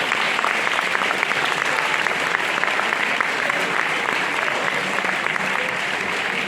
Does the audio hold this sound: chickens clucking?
no